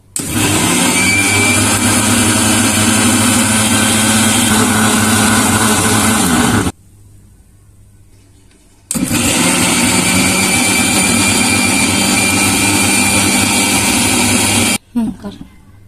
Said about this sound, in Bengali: এই যে আমরা এখন আমরা ব্লেন্ডার করব দুজন মিলে।